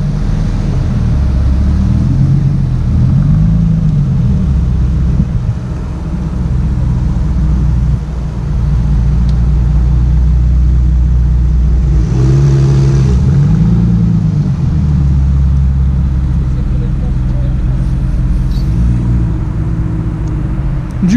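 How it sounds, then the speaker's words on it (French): A Bentley Super Sport at an auto festival in Luxembourg, its engine idling with a steady low rumble, then rising and falling through a couple of revs mid-way before settling back, loud and close. "On a le Bentley Super Sport."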